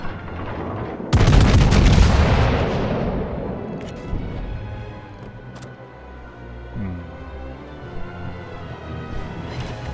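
Heavy battleship main guns fire in a naval combat video game, with a sudden deep booming salvo that rolls out into a long decaying rumble, followed by faint distant thuds.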